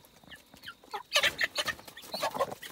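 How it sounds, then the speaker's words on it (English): Several Gold Sebright hens cluck in short bursts nearby, building into a noisy run of squawking calls; a rooster's voice is mixed in among them. "There's a little rooster in the back."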